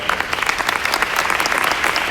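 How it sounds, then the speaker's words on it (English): A large audience at a Workday Rising 2018 business conference session claps loudly and continuously, dense applause filling the whole moment. "So I think a big round of applause for all of the workers."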